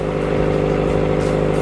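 Hot motorcycle engine running under load while being ridden, a loud, close, steady drone with wavering throttle and heavy wind rumble, no talking.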